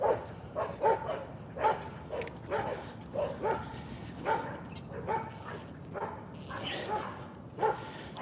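Several neighborhood dogs bark in repeated bursts at a passing dog on a morning walk, a steady series of yaps and woofs at mid-distance, with people talking at times.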